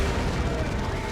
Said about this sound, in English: More las cannon shots just dumping in their damage on that Vanquisher Leman Russ